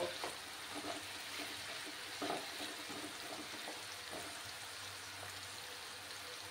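Potatoes fry in a pan with a steady, soft sizzle and bubbling hiss, a few faint knocks and stirring sounds rising above the quiet crackle; no voices.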